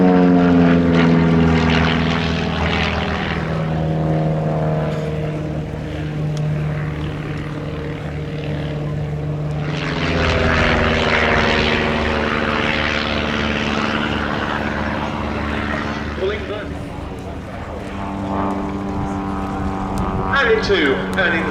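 Propeller aircraft flies an inverted pass along the display line at the East Kirkby Airshow in 2019. Its engine drone is loud and sustained, swelling and fading as it passes, with an announcer's voice heard over it.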